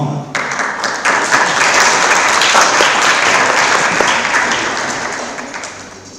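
Audience applause fills a hall at an event, dense steady clapping from many hands that swells quickly, holds loud and even, then gradually fades toward the end, with no one speaking over it.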